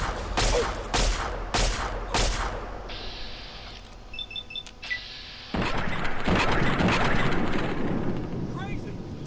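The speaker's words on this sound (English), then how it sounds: "right now I'm using the laser pistol" Laser pistol fire in Fallout 3 gives several sharp, loud bursts at the start, then quieter in-game sounds with short chimes, and a busier burst of noise near the end, with game effects throughout.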